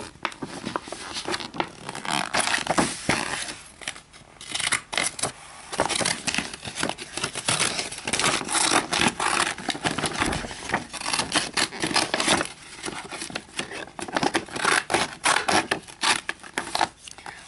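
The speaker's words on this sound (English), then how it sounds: "Let's cut out all these things. Remember, be careful. Scissors are very sharp," Scissors snip and rustle through magazine paper close by, cutting out pieces, with steady cutting and crinkling sounds continuing throughout.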